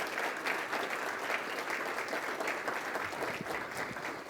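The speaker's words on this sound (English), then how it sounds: "So I want you to give them a big round of support and applause." An audience at a city address gives steady, dense applause from many hands, filling the room evenly and moderately loud for the whole stretch without a break.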